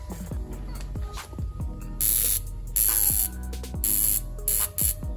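A spark plug in a hotlicks flamethrower exhaust kit on a Nissan 350Z fires in several short, loud hissing, crackling bursts over the steady hum of the running car.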